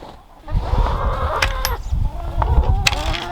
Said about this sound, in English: Come on out, chickens.